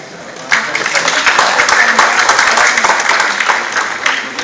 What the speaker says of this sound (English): let's please welcome him with a huge round of applause